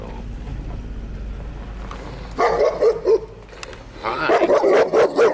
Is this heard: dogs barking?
yes